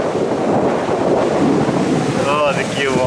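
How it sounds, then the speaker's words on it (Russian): Storm waves on a sea shore in the evening, a continuous loud roar of surf and wind buffeting the microphone, with a voice briefly speaking over it near the end. "Какие волны идут, а?"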